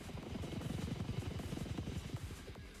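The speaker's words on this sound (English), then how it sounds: "Another helicopter?" A helicopter in the video game Blue Archive thrums with a rapid, steady rotor chop, loud and sustained, with no voices over it.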